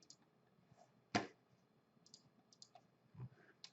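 A computer mouse gives one sharp, close click near the middle, surrounded by faint scattered clicks and light taps in a quiet room.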